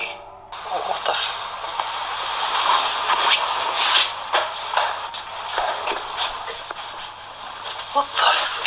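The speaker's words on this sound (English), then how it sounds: "the only footsteps that can be heard are his own" Footsteps in a ghost-investigation recording come as a series of soft, irregular shuffling steps against a hissy background, fairly close and moderately loud.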